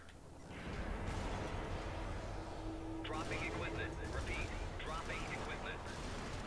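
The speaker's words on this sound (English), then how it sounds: "That's a machine gun." Sustained, loud machine-gun fire from the Helldivers video game, a dense continuous rattle of rapid shots with heavy low rumble that starts within the first second and keeps going, with a voice briefly audible partway through.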